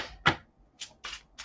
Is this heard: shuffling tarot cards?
yes